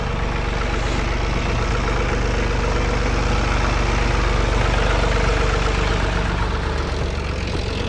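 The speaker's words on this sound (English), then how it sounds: "When you're running a PTO winch, it helps if it's on." A John Deere 3046r cab tractor idles steadily while running a PTO winch, giving a close, constant low engine drone with no talking.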